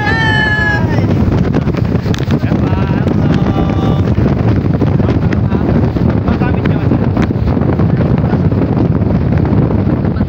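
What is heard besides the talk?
strong wind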